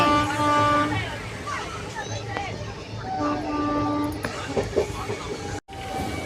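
A rumbling train rolls steadily along with rhythmic rail clatter, while several people talk nearby over the noise.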